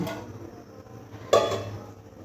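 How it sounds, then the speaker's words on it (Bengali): A lid lifts off a cooking pan holding fish roe simmering in water with salt and turmeric, giving a single sharp metallic clink midway, with soft bubbling and a low hum continuing around it. "এবারে ঢাকাটা খুলে নেব"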